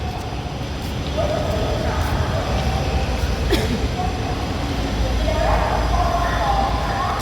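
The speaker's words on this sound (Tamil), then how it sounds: "ட்ரெயின் வருது," A train rumbles into a Chennai station steadily with a low continuous roar and a faint high squeal, while voices murmur in the background.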